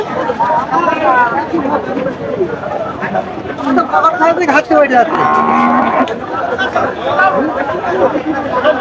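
Bulls at the Dugdugi cattle market moo loudly and repeatedly close by, over a busy crowd chatter while people talk throughout.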